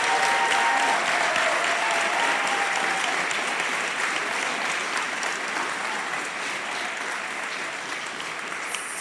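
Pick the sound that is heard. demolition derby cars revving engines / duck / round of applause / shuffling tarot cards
round of applause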